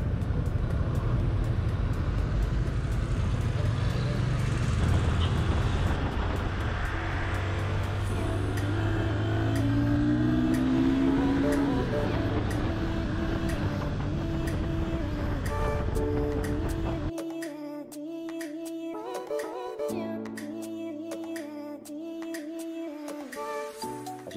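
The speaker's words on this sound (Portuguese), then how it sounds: "A gente chegou numa parte com trânsito pesado." Heavy street traffic in Brazil, a dense steady roar of passing cars and engines with a low rumble, continuous and loud before thinning out to quieter distant engine hum near the end.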